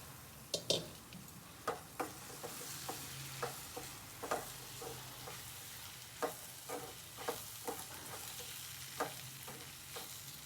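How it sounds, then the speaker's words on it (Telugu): Kabuli chickpeas with salt and chili powder fry in a pan under a soft continuous sizzle, while a spoon stirs them in quick, irregular scraping taps. "ఉప్పు, కాబూలి శనగ వేసేసుకుందాం."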